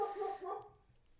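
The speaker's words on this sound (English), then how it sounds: "this is Jimmy's dog, May. She has thoughts." A pet dog named as female gives a short vocal outburst, a brief bark or yip, close by and fairly quiet, fading into near silence at the end.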